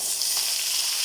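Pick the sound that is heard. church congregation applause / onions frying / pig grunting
onions frying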